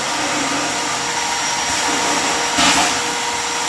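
Shop vacuum sucking debris out of a car engine's supercharger intake, a loud, steady roaring hiss held close throughout with a brief surge near the end.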